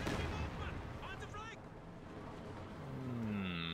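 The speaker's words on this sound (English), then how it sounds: "Not a bad Katyusha barrage, does a bit of damage, forces things to move around." A Katyusha rocket barrage firing in the strategy game Company of Heroes 2: a dense, continuous rumble of launches and explosions, with whooshing tones rising near the end.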